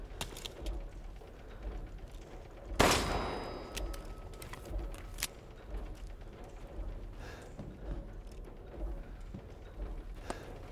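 Gunfire in the video game Resident Evil Village: one sharp, loud shot near the start with a ringing tail, then quieter clicks and scattered small impacts amid low ambient game noise, with no talk.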